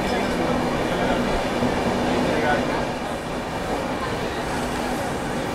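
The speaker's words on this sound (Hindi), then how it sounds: "अपनी राजधानी एक्सप्रेस फिलहाल पहुंची है गुजरात के सूरत रेलवे स्टेशन में" Rajdhani Express rolling into Surat railway station in Gujarat, a steady loud rumble of rail cars with faint wheel clatter filling the whole stretch, while a voice talks over it.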